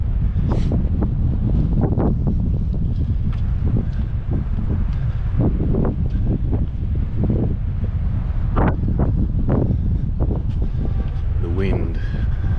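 Strong outdoor wind blows across the microphone on a walk near a Melbourne stadium, a loud, continuous buffeting rumble with scattered bursts, while people talk over it.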